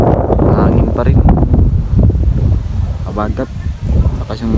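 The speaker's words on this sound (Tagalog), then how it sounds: "Lakas yung hangin." Strong wind sweeps across a beach at low tide: a loud, steady roar that buffets the microphone throughout, with people talking over it.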